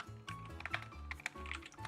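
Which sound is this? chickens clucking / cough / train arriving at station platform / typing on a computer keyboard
typing on a computer keyboard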